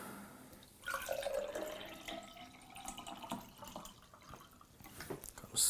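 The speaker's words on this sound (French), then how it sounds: "Je vais mettre un peu d'eau dedans." Water poured into a glass fitted with a twisted novelty straw, a short trickling and splashing pour near the mic that rises at the start and tails off with scattered drips.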